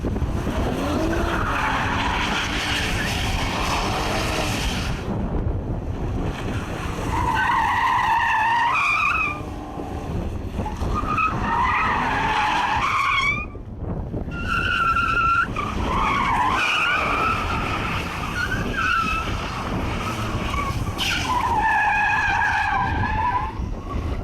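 An Infiniti Q50 Red Sport 400 from 2018, driven hard, its engine roaring as the tires skid and squeal in repeated bursts, loud and close throughout.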